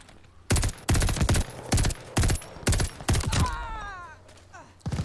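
Rapid bursts of automatic gunfire in Call of Duty: Vanguard, about seven sharp loud volleys in quick succession followed by a whining, descending game effect and a final shot.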